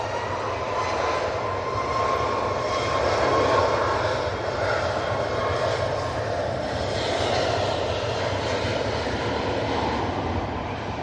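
A Canadian C-130 Hercules turboprop departs Manchester Airport during a storm, its steady broad engine roar holding loud and constant throughout with no talk over it.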